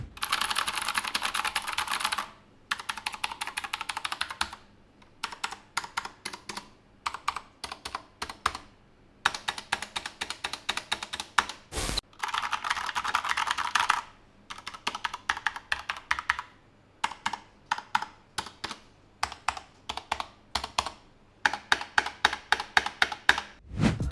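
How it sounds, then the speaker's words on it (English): Someone types on a Corsair K70 RGB Pro keyboard with Cherry MX blue and red switches, giving rapid clicky keystroke bursts separated by short pauses, close and crisp, with a few isolated taps near the end. "Here's a sound test of the Cherry MX blue and red switches on the K70 RGB Pro for your reference."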